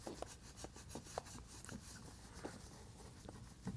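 A microfiber towel rubbed over a stained metal car exhaust tip, producing a faint, steady rasping swish with a loose back-and-forth rhythm and soft periodic strokes, recorded close but at low volume.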